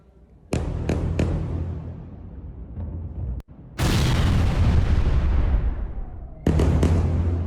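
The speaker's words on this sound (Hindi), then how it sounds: "गाजा के उत्तरी हिस्से में बम बरसाए हैं आईडीएफ ने" Airstrike bomb explosions in northern Gaza, with sharp booming blasts: a few quick cracks early, then a long roaring blast that slowly decays, and another burst of impacts at the end.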